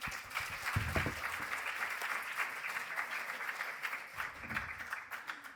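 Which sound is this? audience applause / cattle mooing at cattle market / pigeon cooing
audience applause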